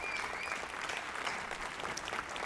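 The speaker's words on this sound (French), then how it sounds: "Applaudissons notre talentueux flûtiste." Applause for a talented flute player, a steady patter of clapping from a small crowd that continues evenly throughout at moderate volume.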